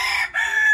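A Lakenvelder rooster crows once up close, a short loud call with a brief break in the middle.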